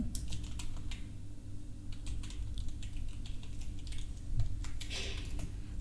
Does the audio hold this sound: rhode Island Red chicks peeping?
no